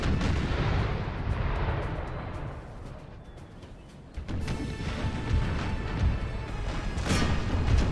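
Artillery in Empire Total War 2 fires canister shot in heavy, rumbling booms, rolling volleys that swell, fade briefly midway, then return dense and loud over a battle din.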